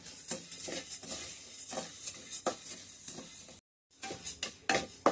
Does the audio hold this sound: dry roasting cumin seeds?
yes